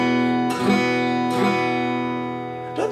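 A beginner's guitar chord rings out loosely and unevenly, strummed three times with a dull, slightly muddy sustain. Each strum decays before the next, and no one talks over it.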